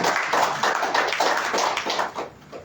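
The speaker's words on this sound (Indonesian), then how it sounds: "Beri tepuk tangan buat Tuhan." A church congregation at a Sukabumi worship service claps together in praise, a steady rhythmic patter of hands filling the room without talk.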